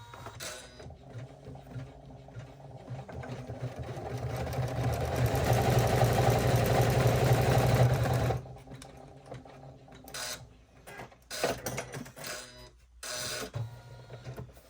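An embroidery machine sews a pleat on a stadium bag held in the hoop: a steady, fast mechanical whir of needle strokes builds and runs loudly for several seconds, then stops, followed by sparse clicks and short stitching bursts.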